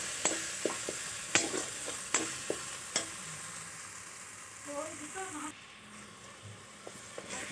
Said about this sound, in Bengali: এবার মশলাটাকে ভালো করে কষিয়ে নেব একটু সামান্য জল দিয়ে।